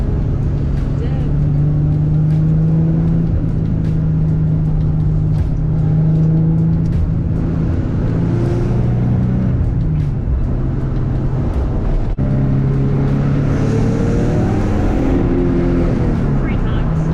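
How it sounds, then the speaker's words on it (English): A loud Nissan 300ZX engine drones steadily while driving along a road, a constant low rumble that stays close and prominent throughout, with a person talking over it. "My car's not fast. We didn't even go over the speed limit. It's just loud."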